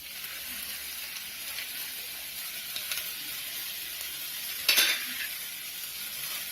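Ginger garlic paste sautéing with golden-brown onions in a pan for vada curry, giving a steady soft sizzle throughout with a brief louder spatter near the end, no voices.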